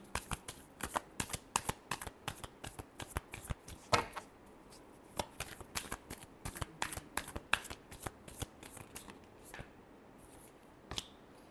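Tarot cards shuffled by hand in a rapid run of crisp riffling snaps and slaps, close and steady across the whole stretch with no talking.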